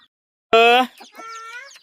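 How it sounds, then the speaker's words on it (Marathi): A single loud rooster call bursts out, followed by softer clucking from chickens nearby. "एवढे मोठले कोंबडे एवढे भरपूर कोंबडे"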